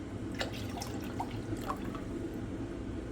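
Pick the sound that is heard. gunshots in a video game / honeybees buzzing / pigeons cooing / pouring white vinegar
pouring white vinegar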